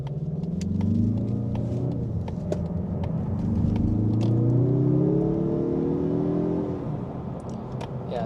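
A 2025 Mazda3 Turbo accelerating hard from a stop in sport mode, engine note climbing steadily through the revs under cabin rumble, then easing off.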